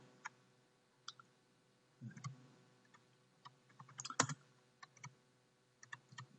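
Typing on a computer keyboard, faint scattered key clicks and short bursts of taps at close range in a quiet room.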